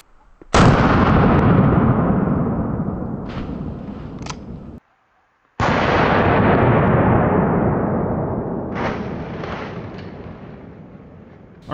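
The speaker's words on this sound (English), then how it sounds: "we're shooting it out of a lightweight gun. So it's gonna kick even harder." A .44 Magnum fired from a lightweight gun booms twice outdoors, each loud report followed by a long rolling echo that fades over several seconds.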